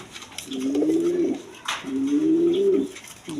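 A pigeon at a bird shop gives two close, drawn-out low coos, each about a second long, separated by a short pause, with no voices over them.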